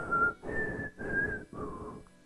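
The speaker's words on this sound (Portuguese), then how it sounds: "O finalzinho do trailer é o assobio" A clear whistled melody of four sustained notes, each held briefly with short pauses between, fairly close and alone, ending a trailer for The Hunger Games: The Ballad of Songbirds and Snakes.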